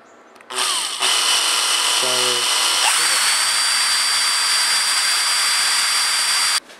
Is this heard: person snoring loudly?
no